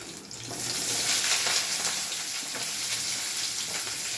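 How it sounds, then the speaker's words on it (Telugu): Chopped onions are added to hot oil for an eggplant curry, giving a steady broadband sizzle that rises quickly and keeps on evenly, with no talking. "నెక్స్ట్ మనం కట్ చేసి పెట్టుకున్న ఉల్లిపాయలు వేస్తున్నాము"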